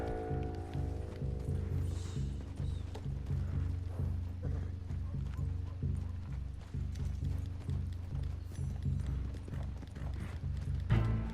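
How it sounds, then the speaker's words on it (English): A horse gallops in the Red Dead Redemption 2 online game, its rhythmic hoofbeats running steadily beneath a low droning score, loud and continuous, with a whinny near the start. "Oh, shut up, horse."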